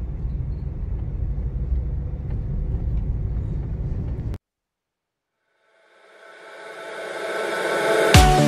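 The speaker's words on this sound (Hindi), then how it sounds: "This is the traffic scene just before entering Gujarat." Road traffic just before the Gujarat border: a steady low rumble of passing vehicles for about four seconds, then a sudden cut to silence, followed by a rising, brighter rush of a vehicle approaching and passing close.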